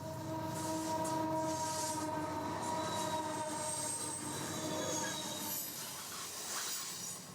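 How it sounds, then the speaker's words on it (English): A westbound coal freight train, loaded with export coal, rolls past in a canyon in Canada, steel wheels squealing in sustained high tones over a continuous rumble of cars, steady and close for the whole stretch. "Minutes later, the westbound train appears. It's another coal load, likely export coal"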